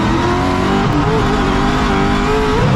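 A race car engine in a racing sim game drones loud and continuous through a lap, its pitch sliding slightly as it holds and shifts revs, with no voices.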